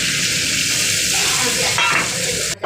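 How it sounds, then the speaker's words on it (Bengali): Water goes into a pan of tengra fish curry cooking in oil, made without onion or garlic: a dense, loud hiss swells briefly as the water hits, then ends abruptly. "এবার জলটা দিয়ে দেবো"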